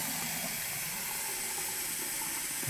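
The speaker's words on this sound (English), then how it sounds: "just to see what the volume of water that is coming out of your faucet" Water pours steadily from a bathroom faucet during a household energy audit flow-rate test, a continuous hiss and rush that stays level and close throughout, with no voices.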